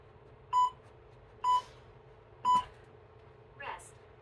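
Three evenly spaced electronic beeps about a second apart from a workout interval timer, clear and close, followed by a softer short chirp, over low background hum.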